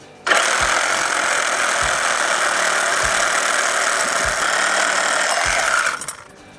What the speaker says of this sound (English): Let's go ahead and saw it with the Sawzall with our metal cutting blade.